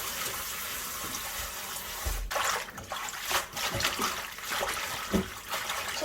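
Bangpung greens are swished and rinsed by hand in a basin of water with vinegar, giving soft, irregular splashes and sloshes up close.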